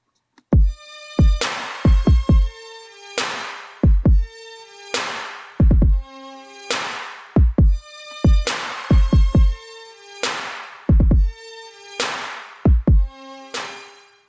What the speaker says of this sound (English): My drums pretty much sound like this